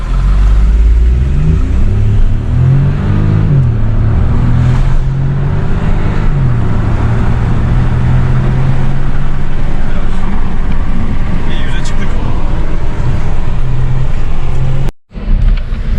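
Audi A3 fitted with an aftermarket air filter, its engine revving up and dropping back several times close by, loud and throaty, while people talk over it.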